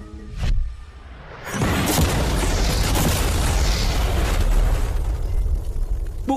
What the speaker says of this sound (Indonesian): kami bakal ledakin mobil biasa untuk melihat apa penumpangnya selamat